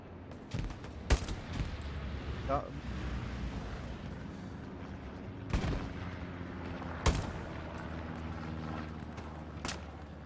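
Gunfire in the World War II shooter Hell Let Loose: sharp, scattered shots crack out at irregular intervals, some close and some farther off, over a low rumbling battlefield background.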